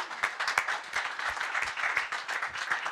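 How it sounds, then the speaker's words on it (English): A conference audience gives a round of applause, dense steady clapping at moderate loudness lasting the whole stretch with no talk over it. "I think that deserves a round of applause."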